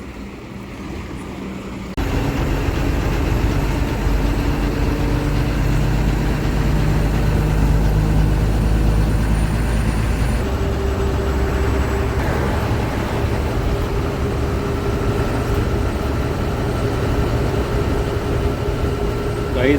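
An SETC bus engine starts and settles into a steady, loud rumble that continues under ongoing road and cabin noise, with a shift in tone partway through.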